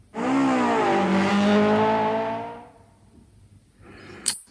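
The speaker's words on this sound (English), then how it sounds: "now I'm going to play the sound of the Lamborghini" A toy Lamborghini plays its recorded engine sound: a loud, rising revving roar that holds for about two seconds and then fades out, followed by a short sharp click near the end.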